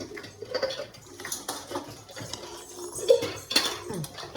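Fried Maggi noodles are moved onto a plate, and a utensil clinks and scrapes against the dish in light, irregular taps near at hand, with faint rustling and no talk.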